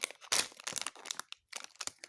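A Moji Pops plastic packet is torn open and crinkled up close, making a burst of sharp crackles and rustles with a brief pause before more crinkling.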